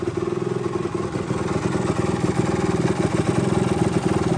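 A 1975 Yamaha DT250 motorcycle engine idles steadily up close, a loud, even, rapid two-stroke putter with mechanical clatter running unbroken throughout.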